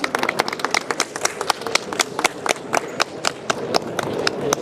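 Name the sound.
audience applause welcoming a product launch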